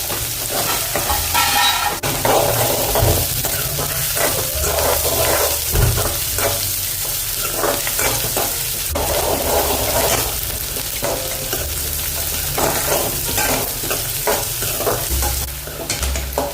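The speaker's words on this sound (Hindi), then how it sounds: "अभी इसमें प्याज डालेंगे और साथ में हरी मिर्च।" Onions and green chilies sizzle and crackle loudly in a hot pan while a spoon scrapes and stirs at irregular intervals, with no talking.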